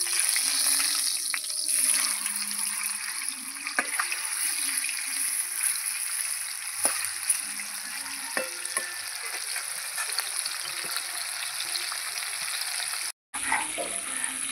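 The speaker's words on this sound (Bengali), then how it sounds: "এই যে এই মাছগুলো আমি সব দিয়ে দেবো।" Pieces of fish, already fried until reddish, go back into hot oil in a pan and sizzle steadily up close, with scattered stirring clinks and a brief drop to silence near the end.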